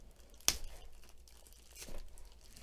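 Plastic packaging on a Wouxun KG-UV9D two-way radio box is cut open: one sharp tearing snip, a brief crinkle of plastic, then a quieter rustle.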